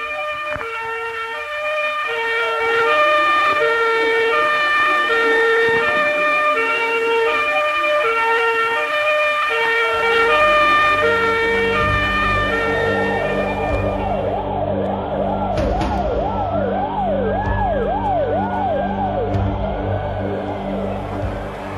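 A fire engine siren arriving at a fire at the TV Globo building in 1976, wailing loud and steady over a layered tonal drone, then rising and falling in rapid sweeps as the truck draws near.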